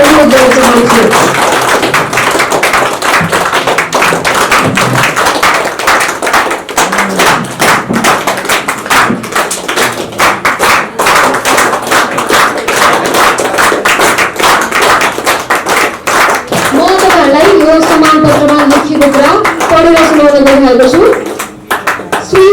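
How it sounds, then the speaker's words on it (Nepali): An audience at an anchoring training event breaks into sustained applause, dense close clapping that carries on for about twenty seconds, with someone talking over it near the end. "संस्थापक अध्यक्ष बेजिङ लामा सर र यो पललाई तपाईँहरूको ताली र अझ उल्लास गरेर पनि अनुरोध गर्न चाहन्छु।"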